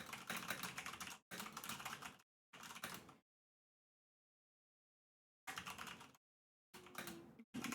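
Computer keyboard typing during a StarCraft 2 coaching session, heard alone in several dense bursts of rapid key clicks separated by pauses, including a long silent gap in the middle.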